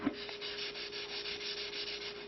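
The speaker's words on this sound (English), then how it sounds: "to create the branches I just rub the bottom of the rock like so" Paint is rubbed onto a rock in one continuous, soft scratchy stroke, close and quiet, with a faint steady hum underneath.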